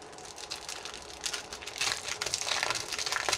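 Crisp crinkling of thin foil paper sheets being handled up close while unboxing bead supplies, rustling in irregular bursts that grow louder toward the end.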